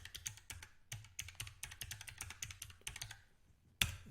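Someone types a note into a form box on a computer keyboard: a quick, close, fairly quiet string of keystrokes in irregular bursts, ending in one sharper, louder key press, with no talking.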